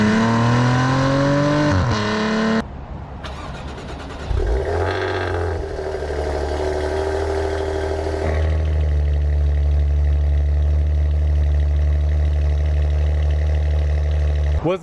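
Maserati Levante SQ4 SUV engine revving hard through gear shifts, with rising and falling pitch sweeps and a loud steady drone afterward, heavy wind buffeting throughout.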